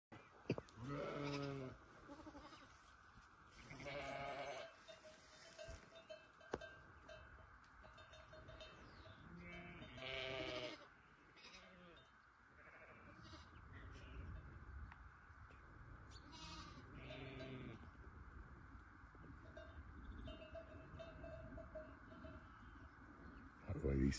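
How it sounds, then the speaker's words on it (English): Sheep bleat on a farm in Portugal, with several short cries scattered among quieter moments and people talking nearby. "That's a mangy sheep."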